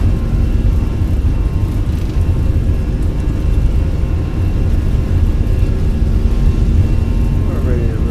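Fenix A320 jet engines on the takeoff roll in Microsoft Flight Simulator 2020, a loud, steady, even roar and whir that holds throughout with no one talking over it.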